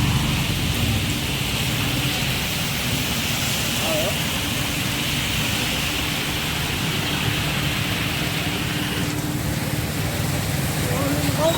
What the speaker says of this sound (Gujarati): વરસાદ ચાલુ છે હજી ધીમો ધીમો